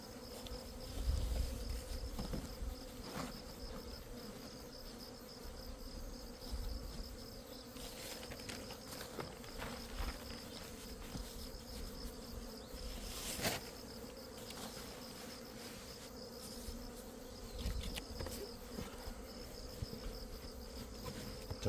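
Honeybees buzz around an open hive during an autumn inspection in September. The dense hum is steady and close with a few louder passes of single bees, and no one speaks.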